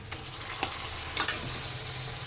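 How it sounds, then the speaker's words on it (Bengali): Taro leaves go into a wok and fry with a soft steady sizzle. A few light scrapes of stirring sound close by, and no one speaks. "তো এখন আমি কচু শাকটা দিয়ে দেবো কড়াইয়ের উপরে"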